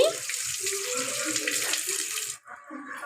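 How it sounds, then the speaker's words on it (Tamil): Tap water runs steadily in a kitchen sink while a dropped fish is rinsed under it, a close continuous splashing stream that briefly cuts out and resumes, with no talking. "ஒரு மீன் வந்து கீழே விழுந்துருச்சு அதை என்ன பண்ண போகிறோம்னா வாஷ் பண்ணி"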